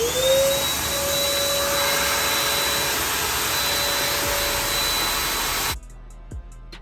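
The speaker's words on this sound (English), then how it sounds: "So go ahead and turn the vacuum on." A shop vacuum running while carbon fiber for a Sea-Doo 300/325 RXP-X ram air intake is cut, a loud continuous whine with a steady tone that cuts off abruptly near the end, leaving near silence and a couple of faint knocks.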